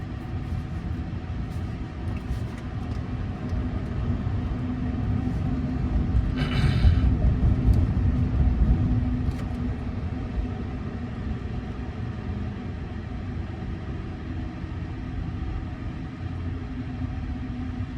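Tesla Cybertruck driving in heavy traffic in Flower Mound, Texas, heard as a steady low road rumble from inside the cabin, swelling briefly midway as other vehicles pass, with no talking.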